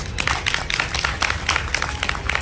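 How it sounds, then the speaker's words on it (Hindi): Crowd at a labour and women workers' gathering in Udaipur applauds to welcome labour leaders: dense, steady clapping from many hands with a loose pulsing rhythm, close and fairly loud throughout. "उनको एक बार जोरदार ताली बजाकर स्वागत करेंगे"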